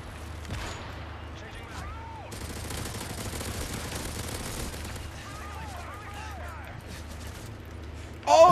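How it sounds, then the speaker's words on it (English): Bursts of video-game gunfire in Resistance, rapid repeated shots in clusters, fairly faint, while someone talks over them. "He's shooting me."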